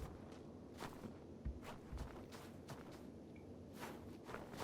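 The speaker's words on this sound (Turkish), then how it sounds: "Ayak sesleri var." Footsteps in the PUBG video game on the Vikendi snow map, a series of soft crunching steps at an uneven pace, fairly faint and with no talking over them.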